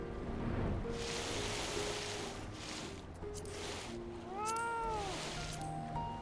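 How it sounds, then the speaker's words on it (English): A fat cat meows in a video game, a clear drawn-out mew near the end over a continuous wash of waves and game ambience. "Fellow fat cat, come back here."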